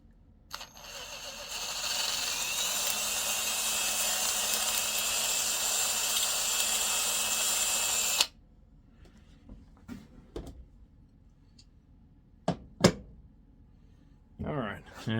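A drill bores out a brass cartridge case for an OAL gauge, a loud steady whine lasting about seven seconds before stopping abruptly, followed by scattered clicks and handling sounds.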